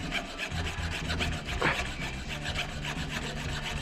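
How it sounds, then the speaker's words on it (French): A file rasps back and forth across the top edge of a metal wheel rim during a front wheel change, a continuous close scraping with rhythmic strokes and no speech. "on va essayer de limer un peu le dessus du coup pour que le compresseur il puisse passer"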